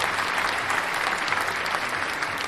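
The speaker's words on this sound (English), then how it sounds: "Applaud Mike" A studio audience gives steady, dense applause for a guest named Mike on a talk show, the clapping holding at an even level throughout with no voices above it.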